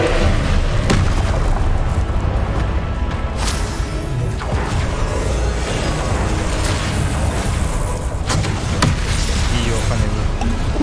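Repeated Confringo fire-spell blasts in the Hogwarts Legacy video game, several loud booms and crashes at roughly 1, 3.5 and 9 seconds over a dense, continuous backdrop of combat noise, with a voice talking in places.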